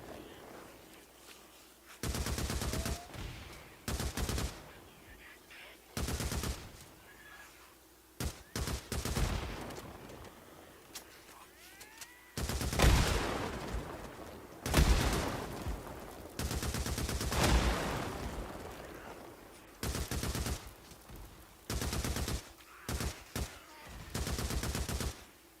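Heavy gunfire rips through a Days Gone horde fight, with long bursts of automatic fire broken by short pauses. The shots are loud and close, and the barrage stretches across many seconds in a ragged, uneven rhythm.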